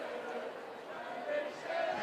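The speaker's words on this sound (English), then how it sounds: "There's some of the noisy section of Aston Villa fans." Aston Villa supporters in a stadium during a women's FA WSL match against Tottenham Hotspur make a steady, distant crowd roar with chanting, under a commentator's voice.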